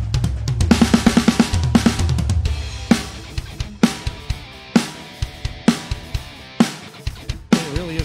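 Snare drum through a Major Tom compressor modeled on the DBX 160 opens with a quick flurry of hits, then settles into steady, evenly spaced punchy backbeat strokes over a kick pattern.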